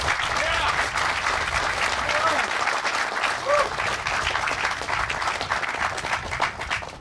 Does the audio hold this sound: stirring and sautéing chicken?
no